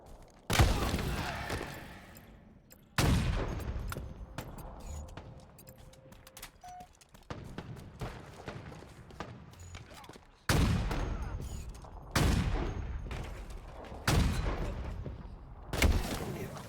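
Repeated bursts of gunfire in Halo Infinite free-for-all multiplayer, several loud volleys separated by quieter stretches of distant shots and game noise, with a voice speaking briefly in the mix.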